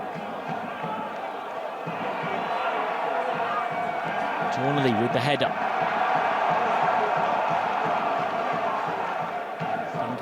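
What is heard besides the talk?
travelling football fans cheering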